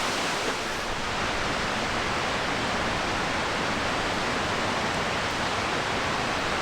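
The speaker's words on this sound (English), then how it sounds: "This waterfall drains from Lake Yunoko" Steady, full roar of a waterfall draining from Lake Yunoko in the Senjogahara highlands near Nikko, a dense continuous rush of falling water heard close and loud, with no voices.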